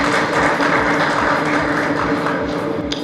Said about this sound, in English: ladies and gentlemen, give him a very warm round of applause,